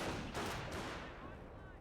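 Gunfire in a WWII strategy video game rattles in quick bursts, with faint, distant shots and rumbling explosions over a dense battle din.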